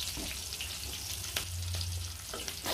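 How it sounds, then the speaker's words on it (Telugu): Garlic frying in hot oil in a pan, a steady close sizzle and crackle with occasional pops and stirring sounds, no talking. "నూనెలో అయితే చూడండి ఇలా వేయించుకోవాలి"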